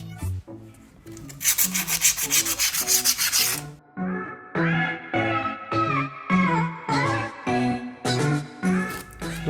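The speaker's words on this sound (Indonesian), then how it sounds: "bakal gue amplas mangkok gandanya biar debunya pada rontok." Sandpaper rubs against a scooter's CVT clutch bell in repeated rasping strokes, first a fast burst, then slower, regular scrubbing passes, loud and close with no talking.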